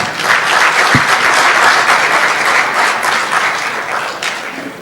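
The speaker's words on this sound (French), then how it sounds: "Un dernier applaudissement pour les enseignants." Audience applause for teachers at an end-of-year ceremony for foreign students in Bejaia, a steady dense clapping from a large crowd that holds loud throughout and eases slightly toward the end.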